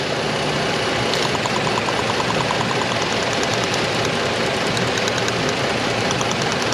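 A car engine idling rough with one ignition coil pulled, giving a steady close mechanical drone with a faint repeating tick and uneven misfire stumble running throughout.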